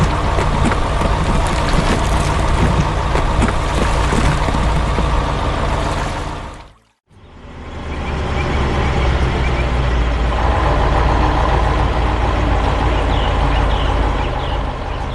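Diesel engines of a yellow asphalt paver and a green tandem roller idle on a city road job, a loud, steady low rumble with a brief dip near the middle before the drone resumes.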